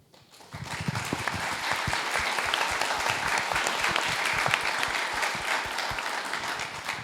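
An audience at a book launch breaks into loud sustained applause, rising quickly from quiet into a thick, steady roll of clapping with individual sharp claps standing out near the front.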